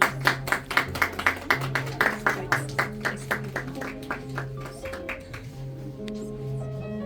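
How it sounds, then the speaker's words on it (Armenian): An audience claps for a group of children, with rhythmic, steady clapping that starts strong and gradually thins and fades. Sustained musical tones continue underneath. "Եկեք ծափահարենք մեր երեխաներին"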